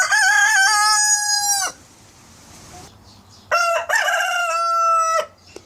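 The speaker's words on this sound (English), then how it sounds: "Individual roosters make different crows, just like individual people have different voices." A rooster crows loudly and close by, two long drawn-out calls separated by a short quiet gap, each with a slightly different voice.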